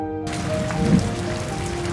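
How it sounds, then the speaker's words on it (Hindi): Steady rain falls outdoors, a dense, even patter of raindrops on surfaces that continues without a break and with no voices. "बारिश की उन पड़ती हुई बूंदों से एक हो जाएं।"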